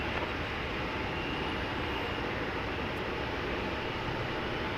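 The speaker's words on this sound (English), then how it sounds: "This UPS A300 arrived from Atlanta 13 minutes ago over on the east side of the airport. It's now taxiing over to the UPS facility" UPS Airbus A300 taxiing at DFW airport after arriving from Atlanta, heard as a constant broad engine rumble and roar at steady loudness, fairly distant, with no voices.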